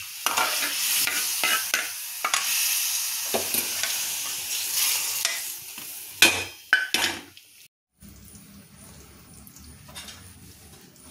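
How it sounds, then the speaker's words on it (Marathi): Egg curry masala frying in a kadhai sizzles and is scraped with a spoon, then water is poured in, a sharp crackling burst that settles into a quieter, softer bubbling. "हे पाणी आता मी त्या कढईत टाकणार आहे"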